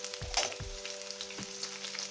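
Curry leaves sizzling and crackling in hot oil for vermicelli upma, a brief burst of close frying hiss with a few sharp pops.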